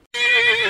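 A horse at a horse sale lets out a loud, close, high whinny that starts abruptly and holds with a wavering pitch before cutting off.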